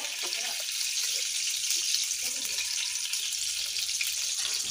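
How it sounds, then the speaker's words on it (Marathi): A steady, bright sizzle of ghee heating in a hot wok, continuous and fairly quiet, with faint clinks underneath. "सर्वप्रथम मी तूप घालून घेत आहे 2 चमचे"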